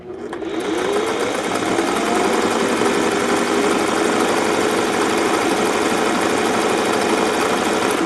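Singer 401A sewing machine stitching fast with metallic Sulky sliver thread: a steady, rapid mechanical whir with a fine clatter that starts within the first second and runs evenly throughout, close and alone.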